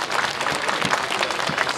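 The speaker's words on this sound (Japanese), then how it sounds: "大きな拍手をお願いします" Applause from a crowd during a halftime performance at a Kawasaki versus Shimizu football match, steady dense clapping filling the whole stretch at moderate loudness with no talk over it.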